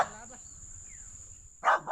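A dog barks in a squash patch where a cobra is roaming: a faint yip at the start, then a loud, close double bark near the end, with quiet background hiss between.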